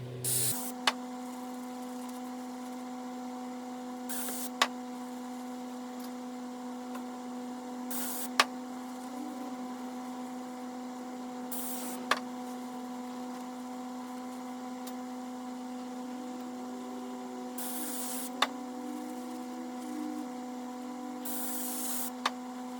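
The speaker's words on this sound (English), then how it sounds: "I'm going to clean these really good with brake clean before I put them back together so no gear oil seeps out" Brake cleaner sprays in short hissing bursts onto PTO and final drive parts from a 1945 Farmall A tractor, about six quick blasts spaced several seconds apart over a steady low electrical hum, with no talking.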